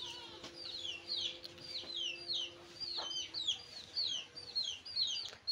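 A hen clucks faintly and repeatedly amid bird chirps, with a low steady hum and no voices.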